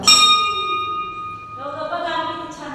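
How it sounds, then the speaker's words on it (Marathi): A bright metal temple bell rings out clearly, then is struck again and keeps resonating, its tone lingering and slowly fading. "हे बघा सानू कशी घंटी वाजवते"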